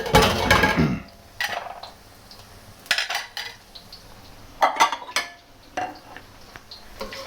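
Beef being stirred in a frying pan produces clinks and scrapes of a utensil against the pan in several separate bursts, with a faint sizzle between them.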